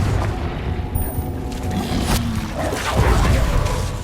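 A Confringo spell explodes in the Hogwarts Legacy video game, giving a loud, dense booming burst amid rumbling game noise, with a strong thump near the end.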